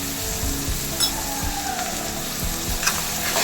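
Bitter gourd pieces sizzle steadily in a pan with salt, as a spoon stirs them in short, scraping pushes that knock faintly against the metal.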